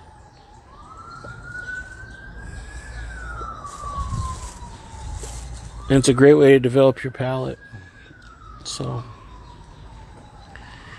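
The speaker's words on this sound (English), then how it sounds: "I got some ambulances going down the street nearby." Ambulance sirens pass along a nearby street, wailing up and down steadily in the background while someone talks close by.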